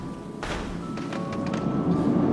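Fireworks in the video game Planet Coaster go off in a few soft, muffled thumps and bursts over a steady crowd-and-park ambience, not very loud.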